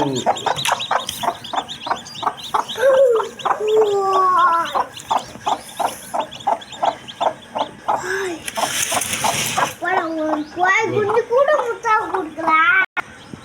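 A broody hen kept on eggs for hatching clucks in repeated short, close bursts while someone talks over her throughout.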